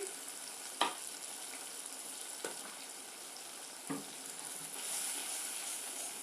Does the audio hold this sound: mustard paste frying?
yes